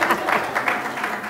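Audience applause at a Black Women in Media panel, a short burst of clapping from the crowd with a voice faintly mixed in.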